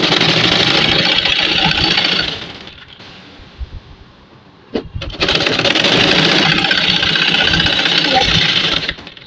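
A sewing machine stitches a kameez sleeve in a steady close whirring, pauses for a couple of seconds with a light click, then runs again at the same fast even pace.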